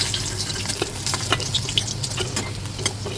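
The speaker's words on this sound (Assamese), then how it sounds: "চিলিটি কৰি ভালদৰে ফ্ৰাই কৰি ল'লোঁ।" Fish frying in hot oil in a karahi with chilli for a spine gourd and fish dish. It gives a steady close sizzle and crackle with scattered sharp pops throughout, and no voices.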